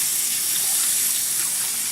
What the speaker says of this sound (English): Wash my hands real quick a little bit.